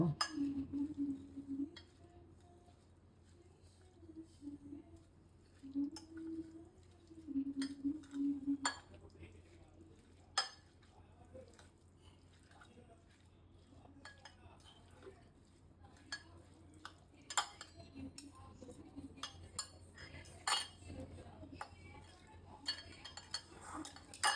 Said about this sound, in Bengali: সালাডটা খুব ভালোভাবে মাখিয়ে নেব